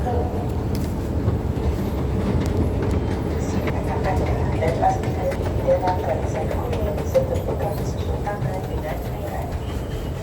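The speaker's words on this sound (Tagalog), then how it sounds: "Bala ng train." Train rolling along rails with a continuous low rumble and faint rhythmic wheel clatter, heard from nearby, while a voice talks over it.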